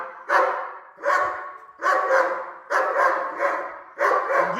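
A German Shepherd barks on command, five loud, deep barks close up, evenly spaced at roughly one per second with silence between.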